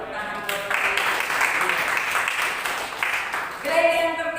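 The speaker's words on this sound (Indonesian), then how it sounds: "Tepuk tangan buat Tuhan." A church congregation applauds during a Sunday sermon, a steady wash of clapping that fades near the end, where a voice or music rises.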